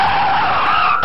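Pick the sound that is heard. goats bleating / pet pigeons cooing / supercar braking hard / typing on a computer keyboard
supercar braking hard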